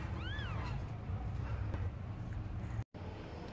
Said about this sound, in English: So I'm going to move the cats and put them inside